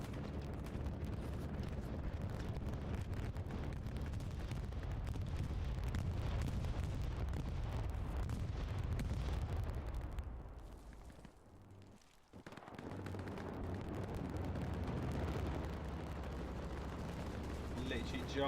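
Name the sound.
bombing run explosions in Hell Let Loose video game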